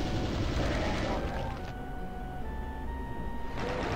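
Plasma rifle fire in Doom 2 on MAP06: The Other Side, a dense, rapid stream of zapping shots for about a second and a half, followed by tonal game sounds and a brief burst of noise near the end.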